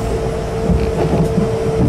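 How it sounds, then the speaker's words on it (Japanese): A loud, continuous low rumble of a train rolling into a station platform, with a faint steady tone riding over the heavy roar. "この電車2番乗り場に到着します。"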